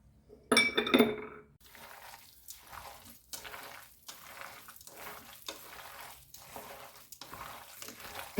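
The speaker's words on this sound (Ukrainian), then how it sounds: "І все все гарненько зараз вимішаю." Minced meat seasoned with salt, coriander seeds and mixed peppers is squished and kneaded by hand for homemade sausage, giving soft wet squelching pulses in a steady rhythm after a brief clink of glass at the start.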